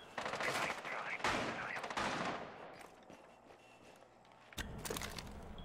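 Bursts of gunfire from a shooter video game ring out loud and dense, with rapid volleys in the first two seconds, a quieter stretch, then another sharp burst near the end.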